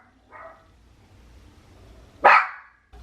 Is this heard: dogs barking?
yes